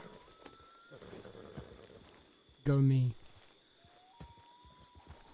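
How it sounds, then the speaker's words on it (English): A wild horse in a video game clops along with soft hoof falls, then gives a short, loud whinny midway; a person speaks briefly over the game audio. "I tamed a random wild horse."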